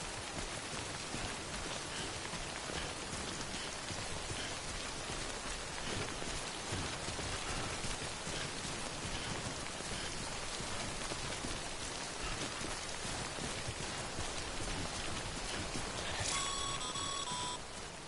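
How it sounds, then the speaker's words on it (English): Steady rain from Death Stranding, the video game's timefall, pours down on surfaces as dense, even hiss for about eighteen seconds. No voices, with a few faint tonal chimes near the end. "Don't stay out in the rain any longer than you have to."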